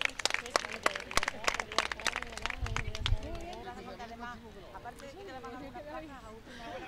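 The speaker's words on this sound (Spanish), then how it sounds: "y un aplauso para las dos" Audience claps for two girls in the benjamin girls' category at a swimming competition, with a burst of applause in the first seconds fading under crowd chatter and an announcer's voice.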